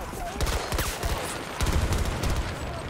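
Rapid Glock pistol shots from Battlefield 2042 gameplay crack out in quick repeated bursts, loud and close, layered over dense battle noise with faint background voices.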